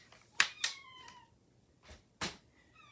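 Cats eager to go outside give several short meows and chirps in a quiet room, spaced irregularly with brief pauses between them.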